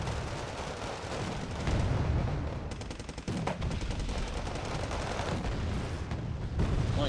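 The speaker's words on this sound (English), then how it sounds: "Nighthawk dropping in bombs, hitting the Chieftains." Bombs dropped by a Nighthawk jet hit Chieftain tanks in Wargame Red Dragon, a sustained barrage of rumbling blasts and rapid crackling gunfire, dense and continuous without voices.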